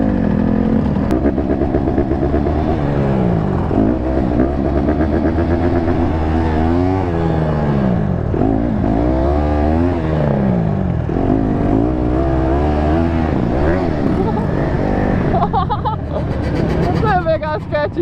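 A Yamaha Banshee 350 two-stroke ATV engine revs hard and wavers through a sliding wheelie, loud and close, with excited voices talking over it.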